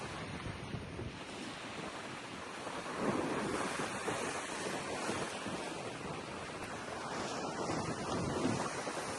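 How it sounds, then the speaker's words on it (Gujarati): Big sea waves crashing on the shore, a continuous roaring wash that surges louder partway through, mixed with heavy wind buffeting the microphone, no voices. "અહીંથી મોજા જોઉં તમે અહીંથી ફટાફટ મોજા એવડા મોટા છે ને કે નજીક જતા ડર લાગે મને"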